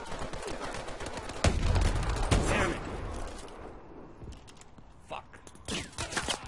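Sniper gunfire from the MORS rifle in Call of Duty Advanced Warfare multiplayer: two loud, sharp shots about a second apart, followed by fainter scattered game noises and bursts.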